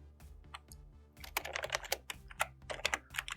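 Typing on a computer keyboard while entering program text: soft scattered key taps at first, then a faster, denser run of clicks, close but quiet, with no talking.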